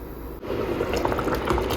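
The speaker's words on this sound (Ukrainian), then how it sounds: "Все, зараз накрию кришкою і хай тушкується." A soft bump, then sauce bubbling and simmering steadily under a lid, a close, continuous gurgling hiss.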